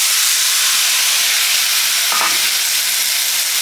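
Freshly added tomato pieces sizzle in a hot kadai while chutney is being made, with a steady, loud frying hiss that fills the whole stretch and a brief clatter of stirring in the middle.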